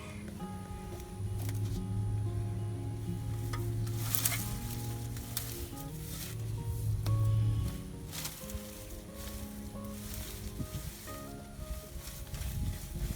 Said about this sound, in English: wiggle jiggle it, jiggle it. Get the tines all the way down in the ground as far as they'll go.